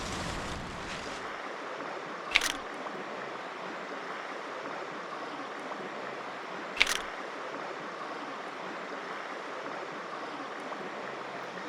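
Steady broadband rush of a mountain stream pouring over rocks and cascades in North Carolina, heard from a rock mid-stream, continuous and fairly loud, with two brief sharp clicks like a camera shutter partway through.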